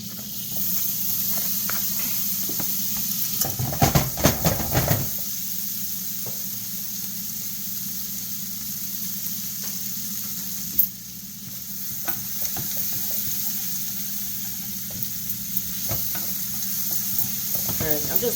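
A salata wrap frying in hot butter in a pan, a steady close sizzle with bursts of scraping and stirring, while a person talks intermittently over it.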